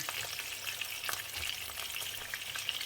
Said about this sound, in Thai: อันนี้พาทอดปลา ทอดปลากินกับข้าว